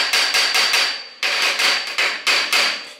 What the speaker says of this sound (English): I'm just gonna go ahead and tap the crank in a little bit towards the bike in here to hopefully help loosen up the pin